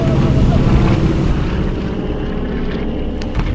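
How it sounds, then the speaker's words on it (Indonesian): A twin-engine airplane approaching from the south, a loud continuous droning roar of propeller engines that holds steady and slightly eases, with no voices. "Ada pesawat mendekat dari selatan, bermesin 2"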